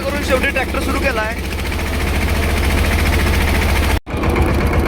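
A tractor engine runs steadily after being started, a loud, continuous rhythmic chugging with a person's voice briefly heard near the start and a short dropout near the end.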